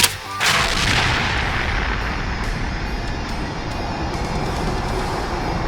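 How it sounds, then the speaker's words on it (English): Enemies blowing apart from a black hole grenade in a sandbox video game, starting with a sharp blast and then settling into a sustained, loud rumbling roar with crackling bursts and no talk over it. "we throw our beautiful black hole grenade, and we get to see the enemies blow up like fireworks"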